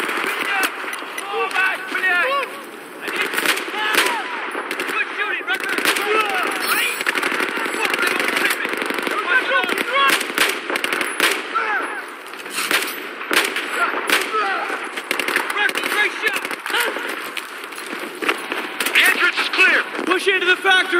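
Dense combat gunfire in the video game Battlefield 4, continuous crackling rifle and machine-gun bursts with scattered blasts, loud throughout, with voices talking over the battle.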